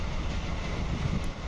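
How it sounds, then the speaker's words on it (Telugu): Secunderabad–Siddipet DEMU push-pull train running near top speed, about 97–98 km/h, with a loud, steady rumble of wheels and carriage noise throughout. "97-98 మధ్యలో వెళ్తుంది ట్రైన్."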